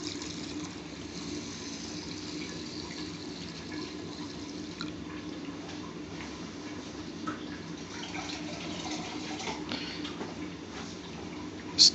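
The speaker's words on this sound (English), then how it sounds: "Now the chef will add the water." Warm water pours and trickles into a pot of rinsed basmati rice in a steady, soft stream, with light dripping and a brief clatter right at the end.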